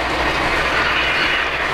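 Polar Express model train rolling through a track switch: a close, steady mechanical rattle and whirring of small wheels on track, continuous and fairly loud, with no talk.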